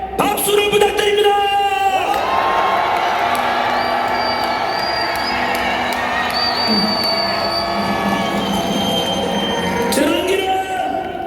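Crowd at a patriotic citizens' rally in Gwangju roaring and clapping, a dense sustained cheer with whoops and shouts, under a loudspeaker-amplified voice that rises and falls.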